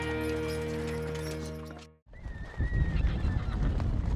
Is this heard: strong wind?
no